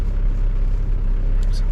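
A buggy drives slowly, its engine a steady, loud low rumble that stays close and unbroken throughout.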